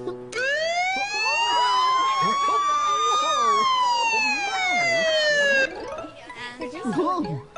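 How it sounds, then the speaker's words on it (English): A loud fire truck siren wails, rising and slowly falling in a long sweep, then gives way to quick warbling tones with voices talking over it. "here is where you turn on the siren"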